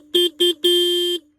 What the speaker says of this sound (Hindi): काफी लाउड हॉर्न है।